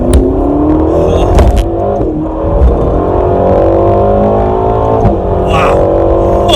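Ferrari California T accelerating hard from inside the cabin, engine note climbing steadily through the gears with brief dips at shifts, loud and continuous.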